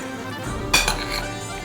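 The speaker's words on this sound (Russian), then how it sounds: "Все хорошо перемешиваем." A Tatar dish seasoned with salt and pepper being stirred in a metal pot, with a short burst of spoon-on-pot clinks and scrapes over a low background hum.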